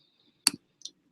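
A computer mouse click, heard as two sharp, close clicks in quick succession against near silence.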